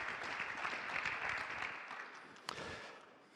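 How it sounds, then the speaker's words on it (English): A conference audience gives a round of applause to welcome a keynote speaker, a soft, fairly distant patter of clapping that fades toward the end, with one sharp knock partway through. "Let's give him a welcome as well with a round of applause"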